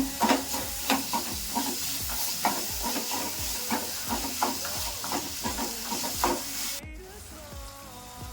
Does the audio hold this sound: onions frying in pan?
yes